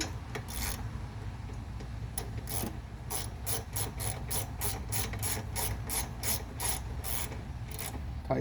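A ratchet tightens a bolt on a powered tailgate tongue jack: a brisk run of sharp, evenly spaced metallic clicks, close and fairly quiet, over a low steady background hum.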